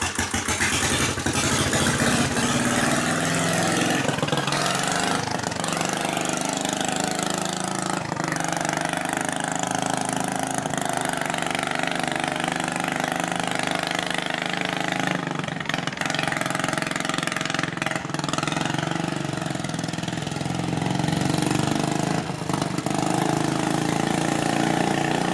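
Engine cranked and left running, giving a steady, continuous mechanical drone with a rough, knocking edge that holds throughout at moderate loudness, close by and without speech.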